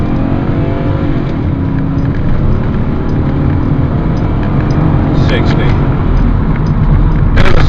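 BMW E39 535i V8 accelerating from a standing start, a loud continuous engine drone from inside the cabin that builds steadily, with a thump near the end and a voice talking over it.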